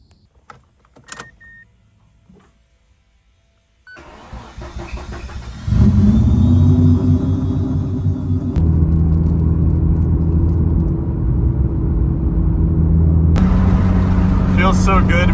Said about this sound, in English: Feels so good to be back in the Miata.